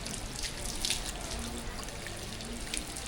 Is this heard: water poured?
yes